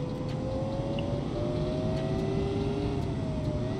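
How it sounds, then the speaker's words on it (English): A 1000-horsepower all-wheel-drive car's engine holds a steady, loud, droning rev in BeamNG.Drive, a continuous buzzing whine with a slowly rising pitch and no pauses. "The engine is really powerful."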